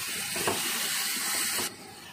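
Onions frying with salt in a pan for a tomato egg drop curry, giving a steady close sizzling hiss that cuts off suddenly near the end.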